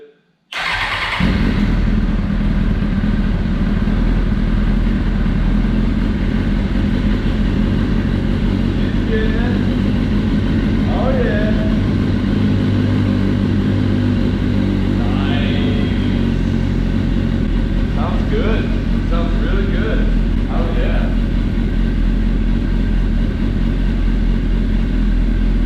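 Suzuki GSX-R 600 motorcycle engine cranking briefly and catching, then running steadily and loudly at a rough idle with occasional small blips, while a few voices speak faintly underneath.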